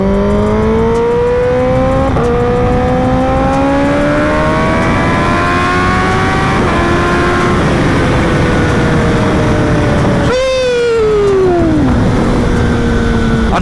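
A 2024 Kawasaki Ninja ZX10R with a cat delete and M4 GP exhaust revs up and holds high, the loud engine tone rising and falling in long sweeps with a sharp blip near the end, close and alone.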